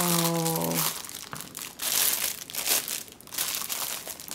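Packaging crinkled and rustled up close while a gift is unwrapped, in repeated bursts of dry crackling after a brief tonal sound at the start.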